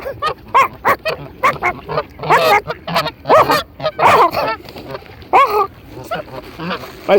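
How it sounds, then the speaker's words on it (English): A dog gives a run of short barks and yips close by, mixed with bird-like squawks and chatter in a lively, busy setting. "Nice dog."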